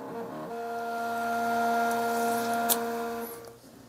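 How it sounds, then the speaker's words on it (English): Phomemo Bluetooth thermal printer printing a document, a steady close motor whine with tonal hum running for about three seconds before winding down, with a small click near the end. "There it goes. Printing."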